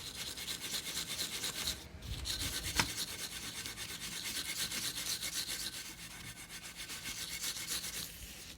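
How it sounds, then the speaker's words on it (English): Sandpaper rubs over a plaster surface to add texture, a steady close scratchy rasping in continuous strokes, with a brief thump partway through. "we can come back over with some sandpaper or just like a really rough surface"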